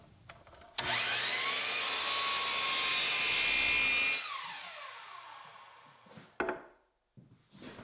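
Table saw ripping and crosscutting 3/4 inch sheet material for cabinet leg parts: a loud, steady whine of the blade through the cut for about three seconds, then spinning down, with a few knocks afterward.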